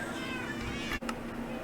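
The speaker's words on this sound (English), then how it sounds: "So many meows." Cats in the Minecraft video game meow in quick succession, close and clear, the calls overlapping in a short burst with a brief break partway through.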